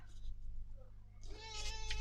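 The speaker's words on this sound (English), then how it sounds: "Cat's here meowing again." A cat meows close by, a single drawn-out meow rising over a quiet room hum in a craft room where junk journal tags are being made.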